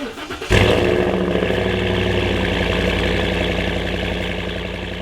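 A Ford Raptor truck engine fitted with a new intake and Corsa exhaust fires up abruptly and settles into a loud, steady, deep rumbling idle close by, holding evenly with a slight fade toward the end.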